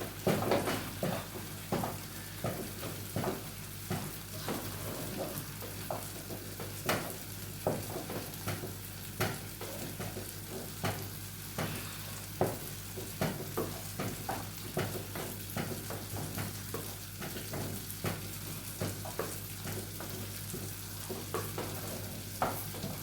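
Ugali being stirred in a pot, a steady series of scraping, knocking strokes against the pot at a near, moderate level, with a low background hum and no talk.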